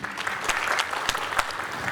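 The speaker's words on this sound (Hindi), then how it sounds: "उनके लिए तालियां चाहूँगा प्लीज़" Audience applause after a stage performance of Albert Camus's play at a Jammu theatre, a steady dense clapping with a few sharper claps, moderately loud and continuous for two seconds with no talk.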